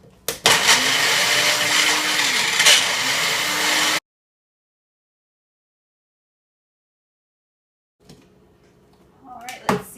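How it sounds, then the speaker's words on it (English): A blender whirs loudly, steady and close, as it blends shredded vegetables for about four seconds, then cuts off to silence, followed by faint kitchen handling sounds. "We're just going to put it on our blender."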